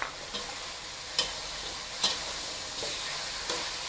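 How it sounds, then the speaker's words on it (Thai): Fried catfish pieces and holy basil leaves being stir-fried in a pan: a steady, soft sizzle runs throughout, broken by a few sharp spatula scrapes and knocks at irregular intervals. "ผัดให้ใบกระเพราสุกค่ะ"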